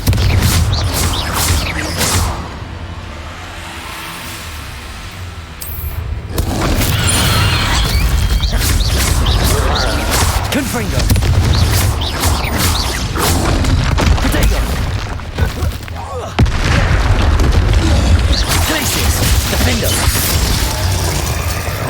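A Confringo blast spell cast in a Hogwarts-style video game, heard as repeated booming impacts and crackling bursts over constant game noise, with a voice calling out spells.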